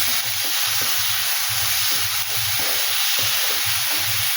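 Spices fry lightly in hot oil in a pan for a cauliflower, potato and egg curry: a constant loud hissing sizzle with a regular rhythmic stirring scrape beneath it.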